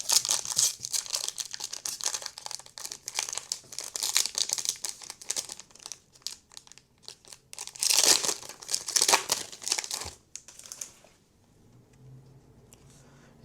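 A football sports card pack wrapper crinkles and tears in bursts of close, crisp rustling, with card handling between bursts and a quieter stretch at the end.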